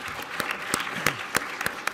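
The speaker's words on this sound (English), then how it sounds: "give yourselves a round of applause" Audience applause at a university event on climate and air pollution: a steady, dense wash of clapping from a crowd in a hall, with sharper individual claps standing out, moderately loud throughout.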